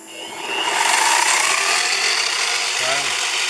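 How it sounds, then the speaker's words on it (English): The spindle of a mini CNC mill spins up and then runs steadily, with a continuous motor whir and a bright broadband hiss that holds at a moderate level. "Oh, most important, turn on the spindle."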